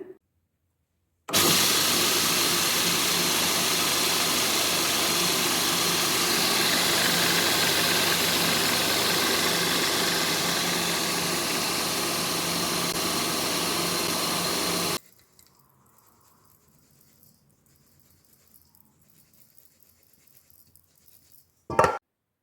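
Wet grinder milling soaked rice into flour for Jaffna-style Aadi koozh, a loud steady mechanical roar running continuously for about fourteen seconds, then cutting off to near silence with a brief clatter at the end.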